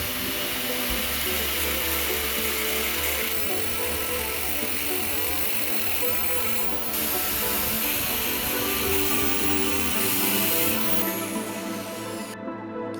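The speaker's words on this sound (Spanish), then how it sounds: "Para ello, utilizamos una amoladora angular." Angle grinder cutting through a transformer's steel core along its weld lines, a continuous loud harsh whine with grinding rasp, steady and close for the whole stretch before cutting off abruptly at the end.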